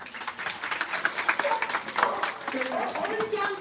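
Audience clapping and cheering at a live dog show agility run, a moderate patter of hands mixed with crowd noise while an announcer keeps talking over it.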